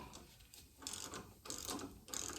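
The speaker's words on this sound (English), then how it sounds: "I have the ratchet for the top. Snug this down" A ratchet clicks in three quick bursts while tightening a bolt on a 2001 Nissan Xterra, crisp and close with short pauses between strokes.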